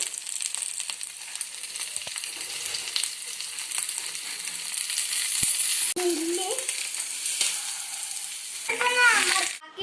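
Mussels fry in hot oil in a pan, cooked in a homestyle Kerala way, with a steady, dense sizzle throughout, a few sharp clicks, and a brief burst of louder spattering near the end.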